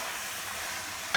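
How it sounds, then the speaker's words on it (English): Water poured into a hot pan of vegan curry produces a steady, even hiss of sizzling steam that holds unbroken, with a small clink at the very end. "And pour it over. You hear the sizzle."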